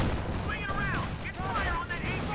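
Gunfire and artillery rumble through a Company of Heroes 2 1v1 battle as a Wagner and Panzer IVs come under heavy fire: a dense, steady wash of shots and booms, with a voice talking over it throughout.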